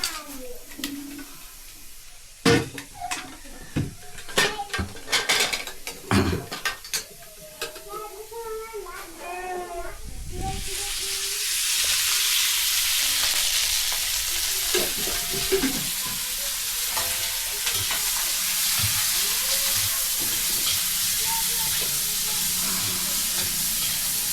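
Chopped onion hitting hot oil in a pan for an ivy gourd vegetable dish, breaking into a loud steady sizzle and hiss that runs on for about fourteen seconds after a stretch of stirring and clattering, with a little background talk.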